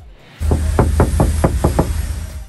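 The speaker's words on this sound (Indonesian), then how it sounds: "kita coba ketok nih guys bagian plafonnya" Knocks land on a Toyota Innova Reborn 2022 roof lining treated with Ground Zero silver 1.7 mm sound damping: seven close, dull, muted taps in quick succession over a steady low hum.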